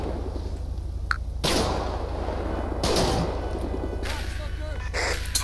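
Gunfire in GTA 5 during an LSPDFR police shootout, a few sharp loud bursts spaced over several seconds above a low engine-like hum.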